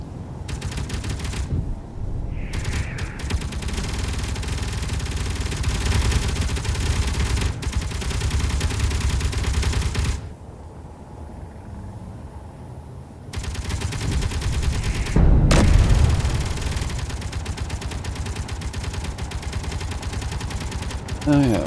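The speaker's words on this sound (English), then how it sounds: "It does seem to get both arms more reliably shooting at each other." Gunfire from the armored mech arms in Space Engineers, heard as steady dense bursts of rapid shooting that run almost throughout, broken by a short quieter gap partway through, with faint talk underneath.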